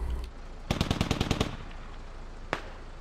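Rapid burst of automatic gunfire in the military video game SquadOps, about eight quick shots in under a second, followed by a lull and one more distant single shot.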